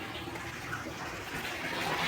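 Running water pours steadily into a container while black pots are being scrubbed clean, a broad continuous wash that grows slightly louder toward the end, with no talking.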